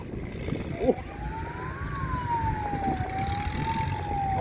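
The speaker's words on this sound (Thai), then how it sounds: "รถตำรวจก็มาครับพี่น้อง" A police car siren wails in a slow rising and falling tone, moderately distant, over rumbling traffic and crowd noise.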